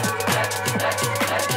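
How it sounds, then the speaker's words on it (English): Two songs clashing in a badly mixed DJ transition, their beats and tones overlapping out of sync in a loud, continuous, muddled blend. "It's when you do a bad mix and the two songs aren't mixed well"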